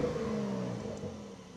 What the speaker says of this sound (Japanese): 離した時のちょっとブワーって音が大きくなりましたね